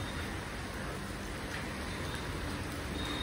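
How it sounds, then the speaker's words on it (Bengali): Heavy rain pours steadily outdoors under a dark sky, a dense, unbroken hiss that stays even and fairly loud throughout with no voices. "পুরো একদম জোরে বৃষ্টি পড়ছে আর আকাশ পুরো কালো করে আছে"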